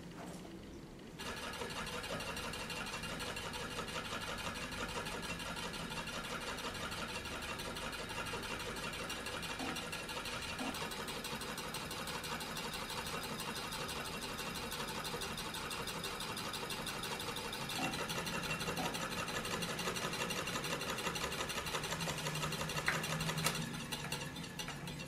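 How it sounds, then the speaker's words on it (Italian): A reciprocating electric motor whose two solenoids pull soft-iron cores to turn it runs steadily for the whole stretch, a dense mechanical buzzing hum with rapid rhythmic clatter, fairly close and constant, with no talking. "i quali attirano i nuclei in ferro dolce posti all'interno di essi, consentendo la rotazione del motore."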